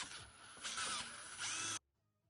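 Power tool whines loudly while trimming the bulkhead pedal pass-through of a homebuilt Mosquito helicopter, running steadily with a surge in pitch midway, then cutting off abruptly into near silence.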